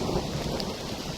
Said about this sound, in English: let's wait for the thunder and lightning to finish, and hopefully the rain will stop